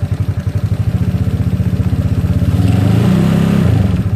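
A GY6 scooter engine revs up close and loud, its rapid pulsing exhaust rising in pitch and thickening to a sustained high-RPM drone.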